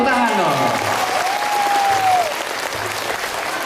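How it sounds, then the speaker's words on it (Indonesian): Loud, dense audience applause at a school literacy event, a continuous roar of clapping from a crowd, with a voice briefly audible over it early on. "Tepuk tangan dong."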